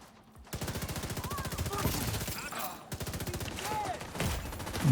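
Rapid machine-gun fire from a video game shooter, long rattling automatic bursts with a short pause in the middle, loud and continuous, with a voice speaking over it.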